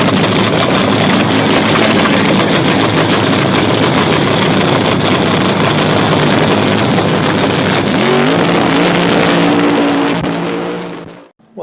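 A funny car drag racing engine pounds out a loud, continuous roar that stays thick and heavy throughout, with a slight shift in tone near the end before it cuts off abruptly.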